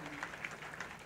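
Audience applause at an African events-industry summit, a short patch of faint, distant clapping from a crowd, steady and soft.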